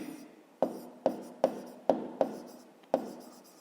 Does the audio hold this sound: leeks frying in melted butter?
no